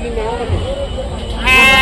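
Goats bleating at a busy animal market, several wavering calls rising over a constant hubbub of people talking, with one louder, close bleat near the end.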